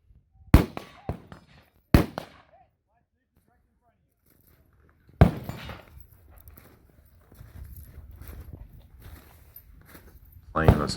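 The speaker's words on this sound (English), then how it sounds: "Let's shoot a few more positions." Gunshots at an outdoor two-gun tactical shooting match in cold weather: several loud, sharp reports, two closely spaced and then a single, a later shot with a lingering rumble, and more shots at the end, with some low talk between.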